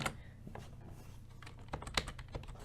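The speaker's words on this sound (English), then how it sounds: "So start typing animation C" Someone types on a computer keyboard, producing quiet, irregular clusters of close key clicks with short pauses between bursts and no talking.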